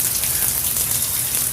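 Heavy rain pours down in a constant, dense hiss, close and even throughout with no talking.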